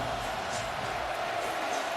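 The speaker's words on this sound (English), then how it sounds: "This crowd just beginning to gain in intensity." A large LSU football stadium crowd roars in a steady, dense wash of noise against Arkansas, loud and unbroken for a moment without a clear break.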